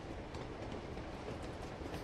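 A train in the video game Uncharted 2 rumbles along with continuous wheel noise and a dense, steady roar, heard alone without talk.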